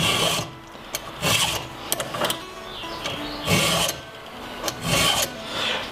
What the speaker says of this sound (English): use a chainsaw file